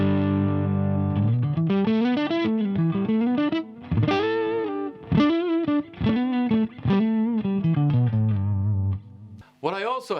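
Electric guitar from a mahogany Strat through a Marshall Plexi 50-watt head on its clean sound, melodic phrases of sustained notes with slight grit, moderately loud with brief gaps between lines.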